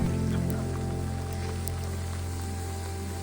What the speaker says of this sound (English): Here comes hopefully the last bit of the rain.